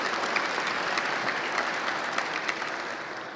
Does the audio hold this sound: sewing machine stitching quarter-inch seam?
no